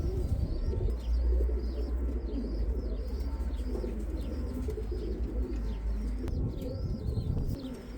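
Pigeons cooing in a yard where blackbirds forage alongside them: repeated soft, rolling coos close by over a low steady background hum, with occasional faint chirps and no talking.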